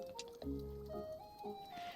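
Water pours into a glass orb in Wanderstop, a soft gurgling fill with drips and bubbly squishing over about two seconds, quiet and up close.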